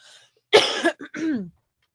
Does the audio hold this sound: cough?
yes